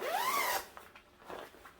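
A sweeping pull on the main zip of a Regatta Thornridge II jacket gives one loud rasp lasting about half a second, followed by a few fainter zipper scrapes and fabric rustles.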